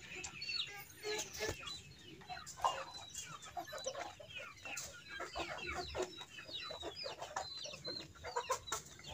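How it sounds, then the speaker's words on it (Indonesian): Chickens wait at a fence for feed on a free-range poultry farm, clucking and chattering continuously in a busy, overlapping flock chorus at moderate distance, with no talking. "itu ayam kok bisa keluar ke sana tuh, di pagar udah pada antri makanan dia"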